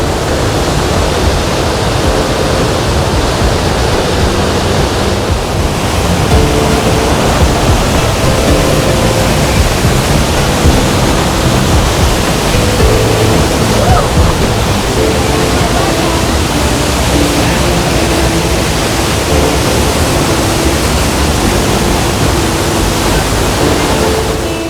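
A waterfall in a North Carolina temperate rainforest roars as a steady, loud, dense rush that fills the whole span without a break.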